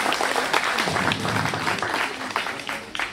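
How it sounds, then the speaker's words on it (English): A conference audience gives a round of applause, with many hands clapping at close to moderate distance and the sound swelling and thinning slightly, while a few voices murmur underneath. "Give Ken a big round of applause."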